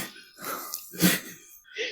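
A person clears their throat a few times in short, raspy bursts, close and fairly loud, with brief pauses between.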